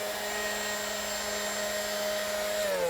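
Leaf blower pushing displaced gravel back onto garden stepping stones, a steady whining motor roar with a constant tone, continuous and fairly close, pitch dipping slightly at the end.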